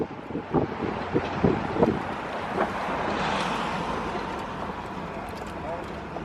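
Wind rushes over a 1966 Cadillac Eldorado convertible cruising with its top down, a steady buffeting roar with a low engine hum, while someone talks over it near the start.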